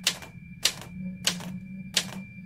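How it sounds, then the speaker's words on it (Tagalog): Typewriter keys strike in four evenly spaced, loud, sharp bursts about 0.6 seconds apart, heard alone over a steady low hum. "narinig ulit ni Mang Pablo ang tunog ng typewriter"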